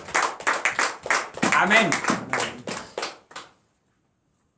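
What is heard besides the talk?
audience applauding and clapping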